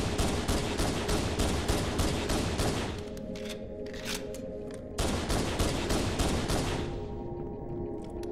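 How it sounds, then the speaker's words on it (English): Rapid automatic gunfire in a video game, a dense, loud burst of shots firing down a hallway that pauses briefly and then resumes, with no talking over it. "Just fire down the hall. I'll walk into the bullets."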